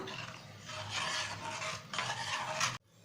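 A spoon stirs raw mango chutney after salt is added, giving a close, continuous scraping and swirling that rises and falls in strokes. It stops abruptly near the end, and no one talks.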